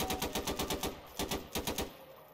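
Rapid bursts of automatic gunfire from soldiers in a Garry's Mod desert battle, several quick rhythmic volleys with short gaps, loud and close, then fading to a quieter tail.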